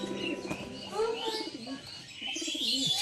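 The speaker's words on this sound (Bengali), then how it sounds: "দেখতে পাচ্ছ আমি গিরিবাজ কিছু মেদরাজ পায়রা তো শখ করাচ্ছি।" Giribaz and Medraj pigeons coo close by in a series of soft, throaty, rolling calls, with a few faint higher chirps mixed in and no talking.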